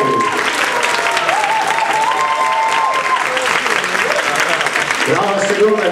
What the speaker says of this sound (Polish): Brawa szczególne dla nich.